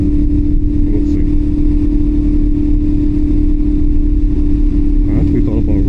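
A motorcycle rides along the road before dawn, its engine droning steadily and loudly close by, with a constant low hum and some wind rush throughout.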